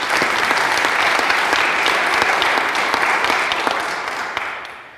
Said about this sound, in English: I think we should give them all a round of applause.